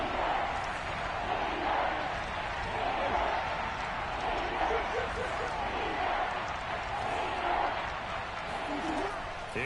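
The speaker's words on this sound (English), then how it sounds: "The crowd getting into it as we come up on a big 3rd down." A football stadium crowd at a Buccaneers vs Cardinals game roars steadily before a big third down, a dense, sustained wash of cheering and shouting that holds loud throughout without a break.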